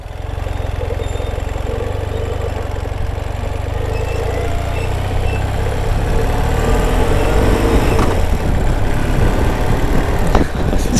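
A Ural motorcycle engine runs while riding, a continuous close rumbling drone that grows slightly louder and rougher toward the end, with a few sharp knocks near the finish.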